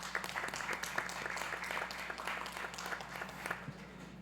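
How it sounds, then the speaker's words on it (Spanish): Audience applause at a criminal and forensic sciences symposium, a fairly faint but continuous patter of many hands clapping for several seconds, with scattered louder claps standing out. "les pido un fuerte aplauso"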